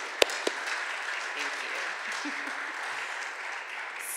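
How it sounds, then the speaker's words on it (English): An audience at an evening book talk on marijuana in America applauds the ACLU of Washington. A steady, dense wash of clapping from a seated crowd lasts throughout, with a brief spoken word from a voice near the start. "if you could give a round of applause for the ACLU and all the important work that they do"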